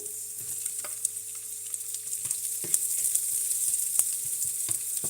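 Onions sizzling in a hot pan for Hainanese pork chop, a steady bright hiss with occasional stirring clicks and scrapes, close and moderately loud, no talking.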